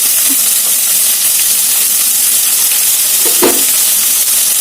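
Onions sizzle and fry steadily in a pan while cooking for pulusu, a continuous loud hiss with an occasional faint stir of the ladle, no talking.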